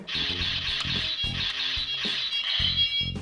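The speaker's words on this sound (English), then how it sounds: "The sword slashing attack." A Power Rangers Mega Blade toy sword's electronic slashing effect: bright synthetic whooshes and clashing tones in rapid bursts, loud and close, with no talking.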